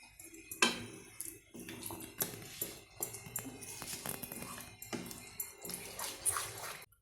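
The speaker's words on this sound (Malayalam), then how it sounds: "കുറച്ചും കൂടെ വെള്ളം ഒഴിക്കാം നമുക്ക്" Water poured into rava appam batter in a home kitchen while making sweet banana rava appam, a splashy, broadband pour mixed with clattering bowl and utensil knocks, close and moderately loud, with no talking.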